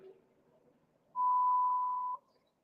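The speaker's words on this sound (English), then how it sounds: "as y'all know, I'm following somebody too close, so I apologize for that beeping." A vehicle's following-distance warning sounds one steady, loud electronic beep lasting about a second while the car is too close behind another vehicle, with faint cabin noise before and after.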